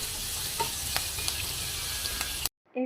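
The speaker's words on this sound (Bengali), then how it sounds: "আম্মু এর মধ্যে আরেকটু তেল দিয়ে আগে থেকে কুচি করে রাখা পেঁয়াজ এবং মরিচগুলো এর মধ্যে দিয়ে ভালো করে ভেজে নিচ্ছে" Chopped onions and chilies fry in oil with a steady broadband sizzle and occasional stirring clicks, continuous and close, ending abruptly near the finish.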